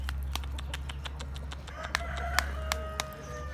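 Roosters and pullets of an Indian game breed cluck and call in a coop over a steady low hum, with scattered sharp clucks that grow busier toward the end.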